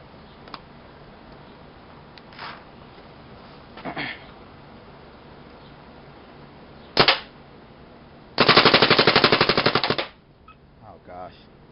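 Paintball marker firing at a trash bag outdoors: a few single pops, then one loud rapid burst of many shots lasting under two seconds, with faint talk in between.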